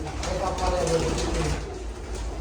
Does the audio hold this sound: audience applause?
no